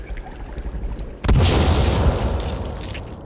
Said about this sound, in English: I collected time bombs